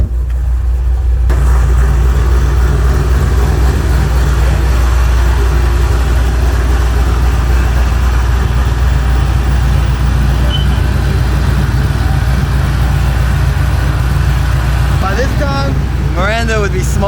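A tuned 800 wheel-horsepower car engine runs loudly and steadily at close range for the whole stretch, with a constant low rumble and some brief sharper noises near the end.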